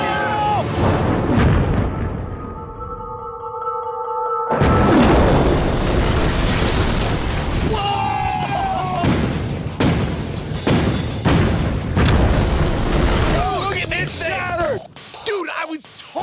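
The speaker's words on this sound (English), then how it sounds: "Time to fire those cannons at each other." Cannons fire cannonballs at each other in an outdoor experiment. Loud, close booms crack out one after another, followed by rumbling and clattering debris with no voices.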